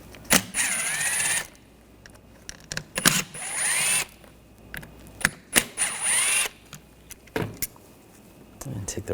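Screws are backed out of the rear window regulator on a 2014-2020 Nissan Rogue with a T25 socket, producing several bursts of whirring ratchet or power-tool spinning with small metallic clicks in between.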